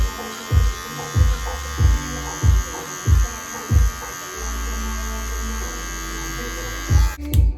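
Electric hair clippers with a 1 guard, closed, buzz steadily while cutting hair in a home self-cut, the motor hum broken by a series of regular strokes, then a longer unbroken run near the end.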